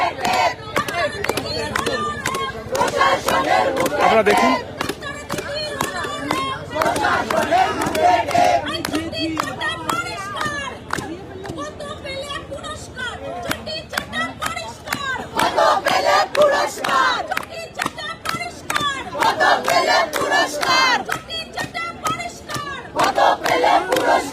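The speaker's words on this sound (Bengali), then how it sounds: "রাস্তার উপর যে প্রতিবাদ চলছে এই মুহূর্তে স্লোগান সাউটিং চলছে" Street protest crowd on a birthday march for Abhaya shouting slogans, dense and continuous with sharp rhythmic bursts and loud overlapping voices throughout, close and energetic.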